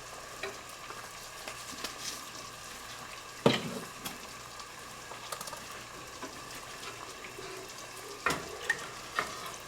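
Garlic powder being stirred into a butter-and-flour sauce for homemade macaroni and cheese with tomato. A soft, continuous scraping and faint sizzle runs throughout, broken by a couple of sharper clinks of the utensil against the pan.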